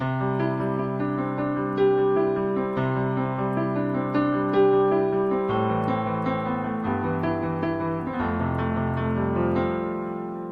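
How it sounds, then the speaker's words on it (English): Mellow stretch-tuned altered piano chords ring out steadily, sustained notes blending into a warm, soft tone with no voices. "When I do that stretch tune on this altered piano, you get a more mellow sound out of it."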